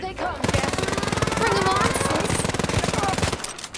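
Rapid automatic gunfire in the World War shooter game Wolfenstein: Youngblood, a loud, continuous burst of evenly spaced shots lasting about three seconds, with brief voices before and after.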